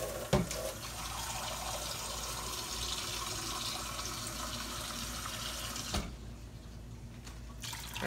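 Stock poured into a pot for old-school squash dressing, a steady close pouring and splashing rush that runs for about six seconds before thinning to a quieter trickle.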